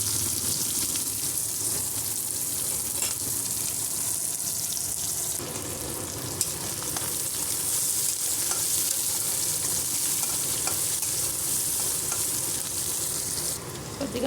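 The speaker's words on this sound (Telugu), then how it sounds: "ఆవాలు జీలకర్ర వేసినాం కదా, చిట్టుపట్టలు ఆడుతున్నాయి." Mustard seeds and cumin spluttering loudly in hot oil, a dense crackling sizzle that surges as onion and curry leaves drop in, with occasional clinks of a spoon and no talking.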